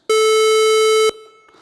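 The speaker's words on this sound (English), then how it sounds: "So a square wave sounds like this." A square wave tone synthesized in Ruby: one steady, buzzy, harsh pitch held for about a second, then cut off abruptly, leaving a faint hum.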